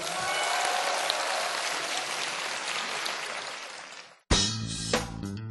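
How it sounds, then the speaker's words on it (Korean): Students in a high school classroom quiz event break into applause to cheer on their classmates, a dense, steady clapping that fades out after about four seconds, followed by a short burst of louder, sharper sound. "친구들의 응원의 박수 한번 부탁드릴게요"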